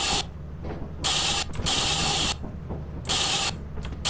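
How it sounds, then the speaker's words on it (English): A spray paint can hisses in Lethal Company in repeated bursts of about a second each, loud and close, with short gaps between the sprays and no voices. "Can I spray paint something?"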